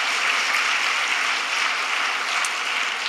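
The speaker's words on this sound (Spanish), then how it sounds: "Dale un fuerte aplauso a aquel que te justificó gratuitamente por su gracia." A Spanish-speaking church congregation bursts into dense, continuous applause, a steady wash of many hands clapping at even volume with no talk over it.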